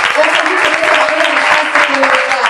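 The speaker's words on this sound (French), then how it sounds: "Est-ce que tu peux acclamer?" A church congregation claps steadily, a loud, continuous wash of applause filling the room for the whole stretch, with voices mixed in beneath the clapping.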